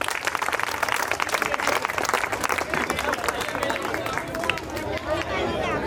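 Crowd applause for guests at a housing society's Navratri garba festival, loud, dense clapping that carries on steadily for several seconds with chatter and a voice underneath.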